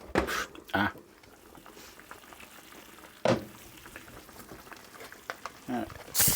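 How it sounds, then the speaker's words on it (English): Bubbling liquid simmering in a pan as a gammon joint boils in cola, with intermittent clanks and bursts of noise breaking through the steady low bubbling. "The gammon joint is boiling away in the pan."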